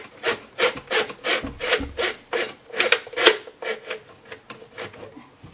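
A drain snake cable turns and pushes through a clogged pipe, producing a loud, rhythmic rasping scrape in roughly regular strokes that rise and fall about twice a second, with no speech.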